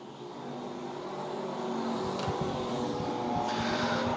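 Pure stock race cars roaring around a dirt oval at Lakeside Speedway, a continuous layered engine drone that swells slightly as the pack comes through the turns, heard from a distance with no talk.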